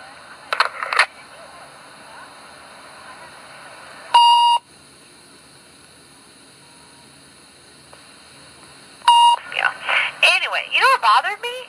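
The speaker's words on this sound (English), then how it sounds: "The beeps, my gosh, there was like 20 of them." Two short bursts of rapid electronic beeping from an answering machine, separated by a quiet stretch, with a voice speaking briefly at the start and end.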